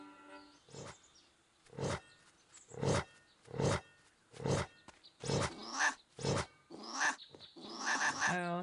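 Big cats in a fantasy video game let out a series of about ten loud, evenly spaced roars and grunts, each a short rising burst, heard up close without talk.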